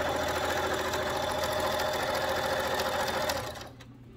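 Sewing machine stitching two pieces of fabric into a simple gift bag, a steady close mechanical whir running continuously before slowing and stopping near the end.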